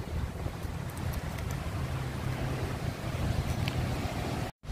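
A steady, fairly faint wash of waves at Holtekamp beach in Jayapura, Papua, mixed with wind rumble on the microphone. It runs continuously with no talking and drops out briefly at the very end.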